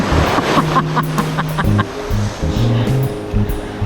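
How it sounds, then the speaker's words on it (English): Stormy April ocean surf breaking on the shore at Lido North, a loud continuous rushing wash of water close by, with wind noise and faint low sounds underneath. "Man, that wave just got the whole backside of me wet."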